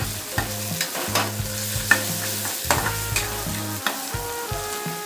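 Turmeric, asafoetida and garam masala are stirred into moong dal frying in a pan, with rhythmic scraping and clinking strokes over a continuous close sizzle and no talk.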